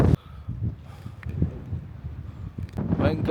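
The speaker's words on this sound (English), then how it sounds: "as you can see, it's kind of windy." Strong gusting wind at Steyr Tarn, a mountain tarn campsite, after a scree descent, buffeting the microphone in uneven rumbling bursts, louder near the end, with someone speaking briefly.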